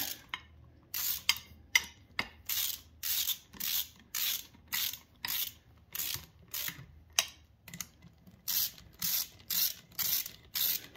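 A ratchet tightens valve cover bolts on a 3800 engine in a Grand Prix GTP, sounding as a rapid, close series of clicking bursts in a regular stop-start rhythm, each burst separated by brief pauses.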